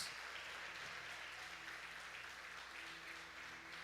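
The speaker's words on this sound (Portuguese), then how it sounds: "Glorifiquem a Jesus com as palmas." Church congregation clapping hands in worship, a steady, faint wash of continuous applause from a large room with no breaks.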